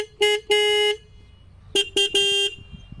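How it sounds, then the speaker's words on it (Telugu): Horn of a Bajaj Pulsar 125 or NS125 motorcycle being tested for loudness, sounding five sharp, loud honks in two groups, close-up, with a steady buzzing tone and short quiet gaps. "సో హార్న్ యొక్క లౌడ్నెస్ ఒకసారి చెక్ చేద్దాం"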